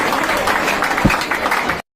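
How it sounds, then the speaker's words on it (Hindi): Brief burst of audience applause at a teachers' day seminar, a dense patter of clapping lasting under two seconds before cutting off abruptly. "तो एक बार ताली बजाओ इनके लिए"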